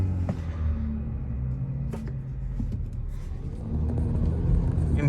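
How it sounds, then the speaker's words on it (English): Low, muted engine rumble from a Hyundai Elantra N-line fitted with a cold air intake, revving slightly in neutral, heard quietly as if from the cabin, with a small rise in intensity toward the end. "put it in neutral, it should rev a little bit, but it's quiet still"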